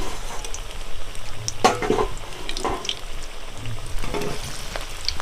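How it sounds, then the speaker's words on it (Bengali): Potato pakoras crackling as they fry in hot oil, a steady close sizzle with occasional louder bursts and spatters as pieces are moved, no talk. "একদিক দিয়ে ছাড়া হচ্ছে, একদিক দিয়ে ভাজা হচ্ছে।"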